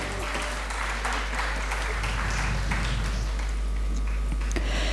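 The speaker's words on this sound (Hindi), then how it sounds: "तो एक बार फिर से जोरदार तालियां हो जाए हमारे एक्सपर्ट्स पैनल के लिए" Audience applause for an expert panel at an event, a dense, steady clatter of many hands clapping at a moderate distance for the full length, with faint tapping and no clear speech.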